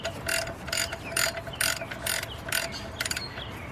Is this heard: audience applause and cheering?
no